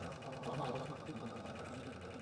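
A sewing machine runs steadily, joining a background piece to the top of an acorn quilt block, with a constant mid-level whir for about two seconds and no clear pauses.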